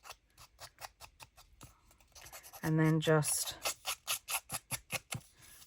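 An old pair of scissors scrapes the edges of matte photo paper to distress them, a rapid series of regular scratchy strokes, close and crisp, with a brief voice mid-way.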